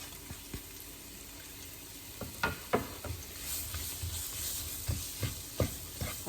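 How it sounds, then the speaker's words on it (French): Thinly sliced leeks sauté in a wok over medium heat for a coconut shrimp curry: a steady soft sizzle is broken by a series of sharp scraping stir strokes, close by and moderately loud, with no voices. "maintenant on va mettre nos poireaux que j'ai préalablement émincés"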